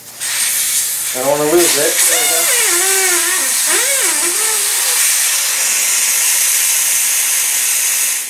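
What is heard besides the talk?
air hissing out of tire valve with core removed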